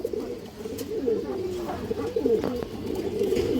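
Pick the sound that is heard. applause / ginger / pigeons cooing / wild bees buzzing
pigeons cooing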